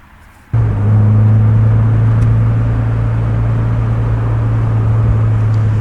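Car engine and road noise fill a vehicle cabin after pulling away from a gas station onto the highway, a sudden loud onset settling into a steady, droning rumble with no talking.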